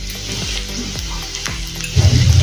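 Curry leaves hit hot oil while tempering for a quick rice and puffed-rice dosa, giving a steady close sizzle and crackle that grows louder and busier toward the end, with no talking.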